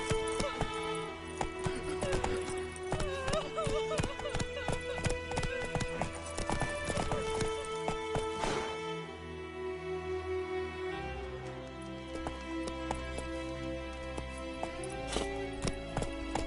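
Horse hooves clip-clopping in the game The Witcher 3, a steady rhythmic trot heard over game music and ambient sound, fairly prominent and continuous throughout.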